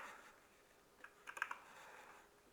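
Typing on a computer keyboard to name a new folder: a faint, quiet stretch followed by a short burst of light key clicks and a sharper tap at the end.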